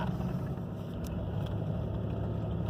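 A 2012 RAM engine idles at about 1,100 RPM after a failed variable-geometry turbo was fixed, a steady low rumble with a faint turbo whine above it and a couple of light ticks.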